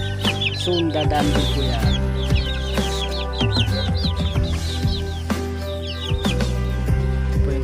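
Busy poultry yard with many two-month-old chicks peeping in high, rapid chirps, while hens cluck and a brief voice speaks amid the crowded flock noise.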